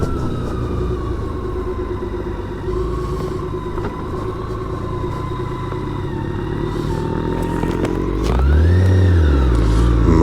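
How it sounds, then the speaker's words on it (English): A BMW K1600 GT motorcycle engine rumbles steadily at close range, then revs up and pulls away near the end. "Motorcycle on the way out."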